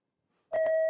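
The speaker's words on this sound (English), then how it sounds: "Let us hear the buzzer, the sound of the buzzer from Brentford International School" A quiz contest buzzer from a school team sounds once, a loud steady electronic tone with a few pulsing onsets, starting abruptly after a brief silence and holding to the end.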